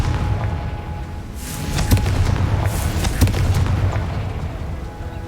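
A Confringo explosive spell in Hogwarts Legacy sets off a dull boom followed by a second sharp blast, with a steady low rumble of game ambience underneath.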